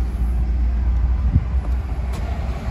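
A 2021 Ford Bronco Wildtrak SUV idling after starting, a low steady engine rumble heard from inside the cabin, fairly loud and even throughout with no talking.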